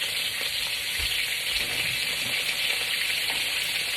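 Dried shrimp sear in a smoking hot pan, giving a steady close crackling sizzle that holds evenly throughout with occasional soft thumps.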